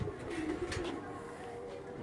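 A pigeon coos softly on a rooftop loft in Quetta, Balochistan, giving low, faint calls over a quiet, hissy background.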